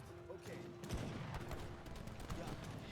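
Organ guns firing in the real-time strategy game Age of Empires III, a rapid volley of layered gunshot cracks and thumps over distant battle noise, with faint talk beneath.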